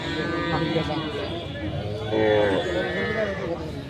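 Cattle arriving at a busy rural livestock market, with a cow's drawn-out moo rising out of loud, overlapping crowd chatter, close by.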